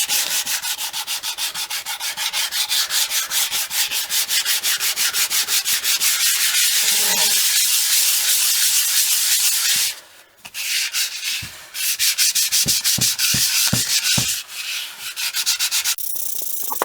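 Steady, close sanding rubs through varnish on a wooden Les Paul style guitar body, continuous and loud for about ten seconds, then broken into shorter strokes and pauses with no talking.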